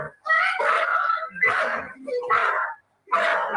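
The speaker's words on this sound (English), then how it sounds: "She screams, let go of me 3 times in the first 7 seconds." A woman screams in a repeated sequence of loud, strained, voice-like wails, four bursts with brief pauses between them.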